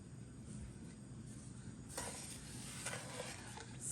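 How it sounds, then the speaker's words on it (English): Sugar and water syrup stirred in a pan over a low flame, a soft continuous scraping and swishing that grows a little brighter and busier halfway through, close and steady with no talk. "Stir continuously on a low flame until the sugar dissolves completely."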